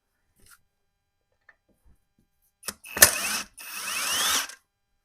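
A ratchet backs out torque converter bolts on a Subaru junkyard engine under rebuild: a few faint ticks, then two close, loud bursts of metallic ratcheting a little over a second long, the first ending abruptly.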